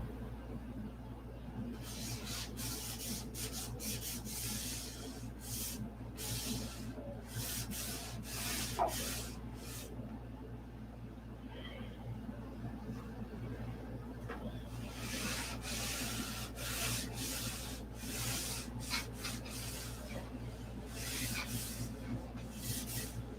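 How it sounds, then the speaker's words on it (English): Hand sanding a cowl while seated on a couch, a steady back-and-forth rubbing rasp in repeated bursts over a constant low hum, close and without talk. "Sand and polish it sitting on the couch."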